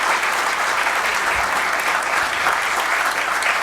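A crowd at a political seminar in São Paulo claps steadily and densely throughout, a sustained wash of applause at full volume with no pauses.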